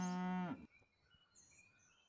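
A cartoonish cow moo from the Super Auto Pets video game, one loud, harmonically rich low call that cuts off abruptly, followed by faint chimes and quiet game sounds.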